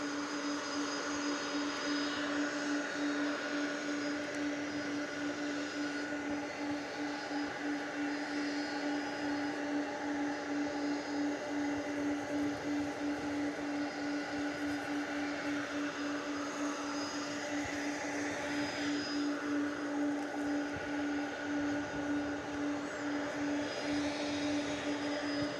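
An airplane taxis toward the runway for takeoff at DFW airport after dark, its engines giving a steady, continuous drone with a constant hum throughout and no talking.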